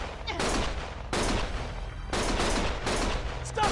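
Sustained bursts of gunfire in the video game Lost Judgment, loud and dense, with rapid volleys in several waves that barely pause, filling the whole stretch.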